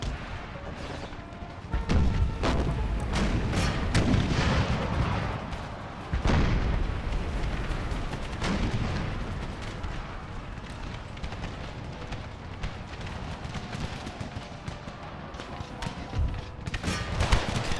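Cannon and artillery fire in the strategy game Empire: Total War, a Civil War-era battle: repeated heavy booms over a dense, continuous roar of battle noise, loud throughout with sharp blasts near the start and middle.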